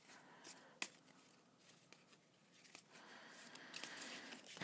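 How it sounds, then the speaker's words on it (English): Thoth tarot cards shuffled by hand, a faint soft riffling and flicking close by with a few sharper snaps, building into a denser rustle toward the end. "Okay, so shuffling my cards here."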